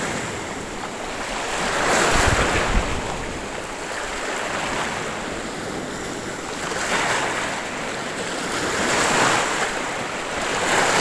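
Sea waves wash onto the shore at low tide at a fishing spot, slow surging swells of surf rising and falling over steady wind noise, no voices.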